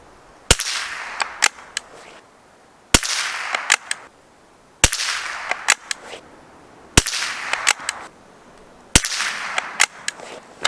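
Schultz & Larsen Otterup .22LR rifle firing Aguila Super Extra 38-grain hollow points outdoors in snow, five sharp single shots spaced about two seconds apart, each followed by brief echoing rattles.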